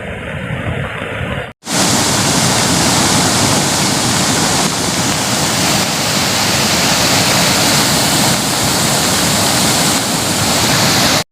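Heavy monsoon rain pouring over a flooded village, a loud, continuous roar of rushing water after a short pause near the start.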